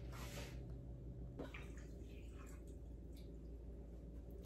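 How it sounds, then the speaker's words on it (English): Water pours into a pot for homemade seitan, a steady continuous splashing and trickling that runs the whole time at moderate closeness, with no talk over it. "so I'm going to add some water to that as well."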